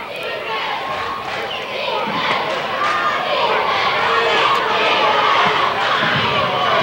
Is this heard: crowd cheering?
yes